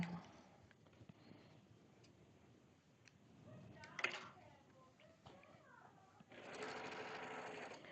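A sewing machine stitches fabric close up in short bursts, with ticking and clicking between runs and a longer steady whir at the end, under quiet speech.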